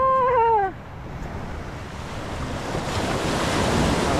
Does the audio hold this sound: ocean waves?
yes